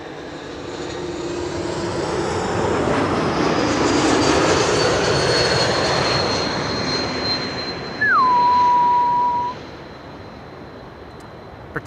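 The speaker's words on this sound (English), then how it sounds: "Particular whistle sound that you hear when an E2 Embraer is passing by, but also when an A320 passes by." Airliner passing close at Amsterdam Schiphol on runway 06 arrivals, a loud broad engine roar swelling and fading with a high steady whistle, then a sharp falling tone near the end.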